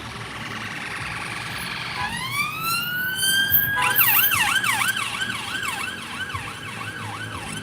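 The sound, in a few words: police car siren passing on a London street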